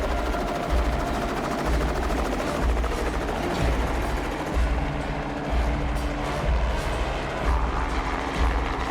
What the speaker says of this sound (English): the helicopter needs to come back for the co-pilot